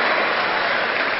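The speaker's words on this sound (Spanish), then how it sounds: "Fuerte los aplausos." A brief burst of dense applause from the audience at a dance show for young local performers, loud and continuous from start to finish.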